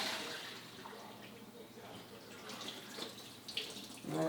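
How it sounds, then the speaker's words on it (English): Tap water runs steadily into a sink while chilled cooked pasta shells are rinsed in a colander, a soft continuous flow with a few clinks near the end. "I'm just gonna rinse them through a colander and just make sure there's no water"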